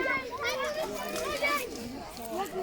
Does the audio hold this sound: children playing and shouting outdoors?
yes